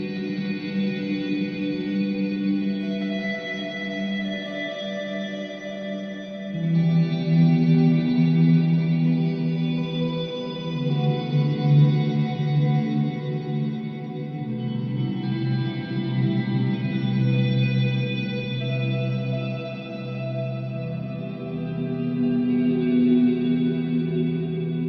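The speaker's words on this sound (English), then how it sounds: "if I choose the fourth one and I max out on the reverb and the mix, we can play some serious drones with that" An electric guitar plays ambient drones through a Hologram Microcosm pedal with reverb and mix maxed, sustained layered tones washing and swelling continuously with long shimmering tails, alone without voices.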